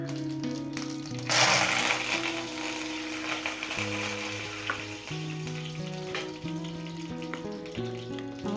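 Curry leaves hit hot oil already crackling with cumin and mustard seeds, bursting into a loud hissing sizzle that settles into steady frying and stirring, with background music and no talk.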